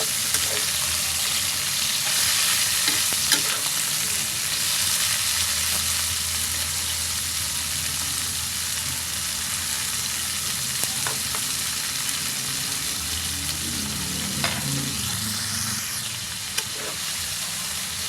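Pork with garlic fries in a pan, giving a loud, dense, steady sizzle and hiss throughout, with occasional faint stirring knocks, close and continuous.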